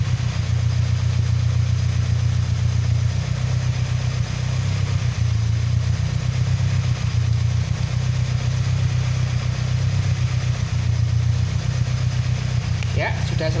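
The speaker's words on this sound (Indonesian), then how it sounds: "mesin masih hidup, mesin normal, kemudian kita matikan" A Toyota car engine idles steadily during a charging system test with an IC regulator, a loud continuous low hum running throughout with a brief clatter near the end.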